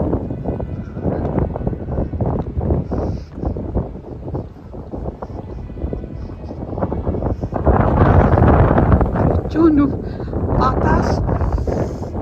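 Wind gusting outdoors on a cold evening walk, a steady blustery rush buffeting the microphone and swelling louder toward the end, with people talking over it.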